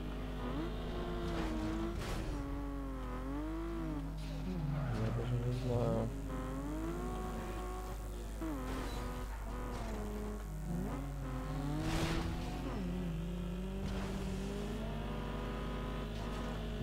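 Racing car engines from Need For Speed Underground 2, a steady loud drone with rising and falling revs and shifting pitch throughout, one car close and others passing, with occasional sharp bursts and no speech.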